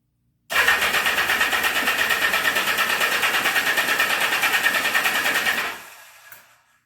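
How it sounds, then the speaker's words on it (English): A 1979 Yamaha XS1100 motorcycle engine, started without the choke, catches at once and runs loud and steady with a dense, buzzing drone for about five seconds before cutting off and fading into quiet. "Let's try it again with no choke."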